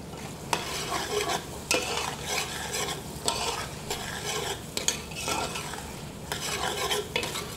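Trinity vegetables for shrimp creole being stirred and fried in a pan, a steady sizzle broken by repeated scraping strokes of a utensil, close and loud with no talk.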